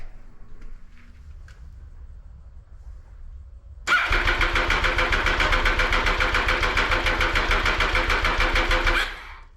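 After a few seconds of quiet, an MV Agusta F3 800cc motorcycle engine with a manual cam chain tensioner cranks and catches, then runs with a loud, pulsing idle before suddenly stopping.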